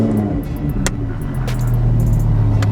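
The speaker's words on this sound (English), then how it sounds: "what I wanna do before we turn this car on" A Lamborghini Huracán EVO Spyder RWD with a V10 engine fires up close by, its deep steady idle rumble building after a couple of sharp clicks, loud and alone without talk.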